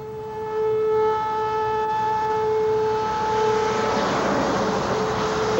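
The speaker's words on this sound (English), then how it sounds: "Those storm sirens were blaring." Loud storm warning sirens in Fort Worth, Texas, wail steadily with a sustained tone during a tornado warning, joined partway through by a rising wash of broadband noise like wind or traffic.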